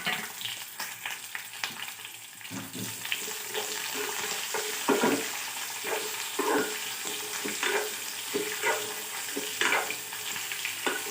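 Curry leaves, onions, green chillies and garlic frying in hot oil in a pan, giving a crackling sizzle broken by repeated scraping stir strokes at an uneven rhythm, close by and with no talking.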